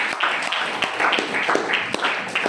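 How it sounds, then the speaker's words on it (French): A church congregation applauds in praise of the Lord, a steady wash of many hands clapping with rhythmic accented beats, fairly loud and continuous throughout. "Nous acclamons le Seigneur."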